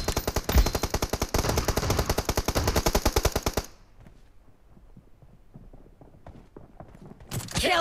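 Rapid automatic gunfire in the battle royale video game PUBG, a loud fast burst of shots lasting several seconds, then a quiet gap before firing resumes briefly at the end.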